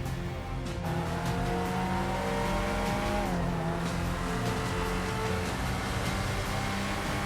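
Grotti Brioso 300 sports car in the GTA 5 video game, engine revving with rising and falling tones, shifting pitch and tire noise over a constant loud roar, no talk.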